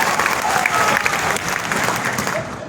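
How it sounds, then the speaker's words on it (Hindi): A meeting crowd claps loudly and continuously in a steady, dense round of applause from many hands, with no talk over it for nearly three seconds. "आप ऐसे लोग जोर से ताली बजा, जोर से बजाइए एक बार फिर से, जोर से बजाइए।"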